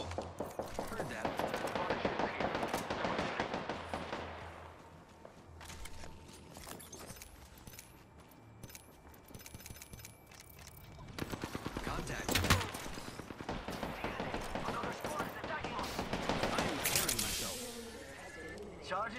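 Gunfire in the Apex Legends battle royale game: bursts of rapid automatic shots and single cracks, moderately loud, mixed with game effects and voice lines, with a quieter lull midway.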